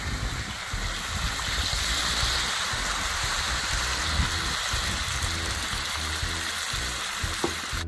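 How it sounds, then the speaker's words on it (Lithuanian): About a litre of boiling water is poured into a cauldron of ribs, a steady close rushing and splashing stream that runs unbroken for several seconds. "Pilam verdančio vandens apie litrą maždaug."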